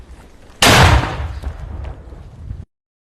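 A single sharp, loud mortar firing blast bursts out suddenly, followed by a rumbling decay that fades over about two seconds before cutting off.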